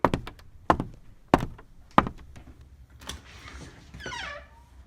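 Knocking at a door: four distinct loud thumps spaced about two-thirds of a second apart, followed by quieter fainter taps and a short rising squeak, with no talk.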